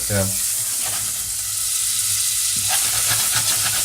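Around 20 grams of butter melting in a hot pan make a strong, steady sizzle and bubbling hiss, loud and close, with a low background rumble and no talk.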